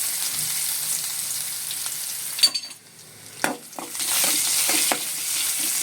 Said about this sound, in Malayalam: വെളിച്ചെണ്ണ ഒഴിച്ചു കൊടുക്കാം. ഒരു 1/2 ടീസ്പൂൺ കണക്കാക്കി കടുക് ഇട്ട് കൊടുക്കാം.